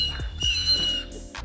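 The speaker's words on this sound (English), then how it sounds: "That sounded a little more like a train whistle, actually." A 3D-printed train whistle sounds a steady, shrill tone for about a second, blown with compressed air and accompanied by low thumps and clatter nearby.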